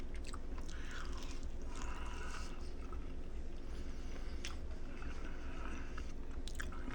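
Close, quiet bites and chewing on crunchy thin-crust pizza topped with pork belly, with scattered crisp crackles over a low steady background hum.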